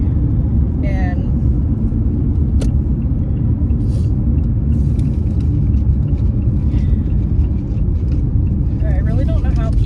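Inside a moving car, a loud, steady low road rumble and engine drone fill the cabin throughout, with faint occasional clicks and bits of voice under the noise.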